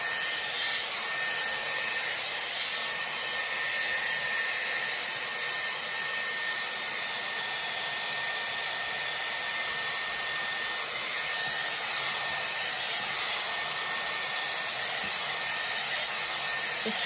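A Dyson Airwrap styler blow-drying hair with a round brush for a salon-style blowdry, its steady airy whoosh running loud and unbroken throughout with no talking.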